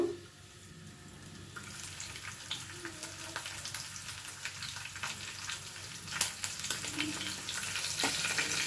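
Mustard seeds, cumin and chopped green chilli frying in hot oil, a continuous crackling sizzle with scattered pops and a few stirring scrapes, close and fairly quiet.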